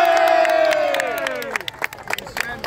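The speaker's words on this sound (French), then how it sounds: "On applaudit très très fort" A crowd at a gathering celebrating a released prisoner cheers and shouts loudly, with scattered claps and whoops rising toward the end; a sustained shout dominates at first.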